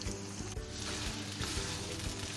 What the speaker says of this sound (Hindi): 1 से 2 मिनट और इसे हम फ्राई करेंगे, गोश्त को, कीमे को।